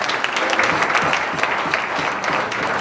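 A dinner audience at a unity gala gives a round of applause after a speech, loud, close, continuous clapping with no talk over it.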